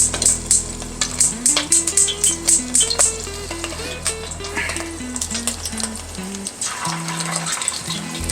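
Eggplant pieces frying in hot oil for an eggplant and sausage dish, giving a steady close sizzle with a run of sharp spattering pops early on and a low burner hum beneath, with no talking.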